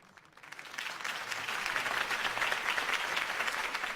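A crowd applauds a political campaign speech in Batman: The Telltale Series, the clapping swelling from a few hands into a dense, sustained ovation that holds steady and fairly loud throughout.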